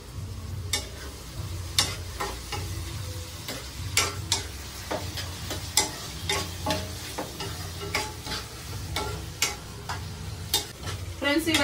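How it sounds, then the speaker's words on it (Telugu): Mutton curry ingredients frying and being stirred in a pan, with steady sizzling under repeated sharp scrapes and clinks of the spoon against the pan at a brisk, uneven rhythm, close and moderately loud. "ఇవైతే మనం చక్కగా కలుపుకుంటూ వేపుకుందామండి"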